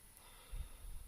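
A person takes a short, close, quiet sniff over a glass of Red Horse beer, a soft breathy intake in near silence.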